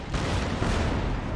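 Cannon fire on an Empire: Total War battlefield, a dense, loud roar of overlapping booms and musket-like crackle that rumbles on continuously without a break.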